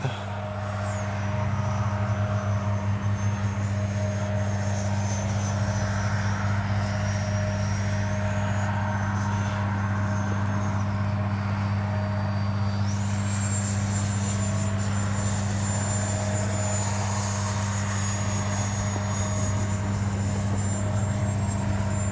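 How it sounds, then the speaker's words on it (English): A small 50mm electric ducted-fan RC jet, an FGFRC Arrows Avanti S, whines steadily at high pitch in flight, the tone jumping upward partway through, over a constant low electric hum. "Very stable little plane."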